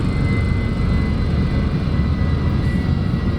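A 30-year-old Volvo with 241,000 miles sits in neutral with its engine held on steady throttle, a constant loud droning roar that stays close and doesn't vary.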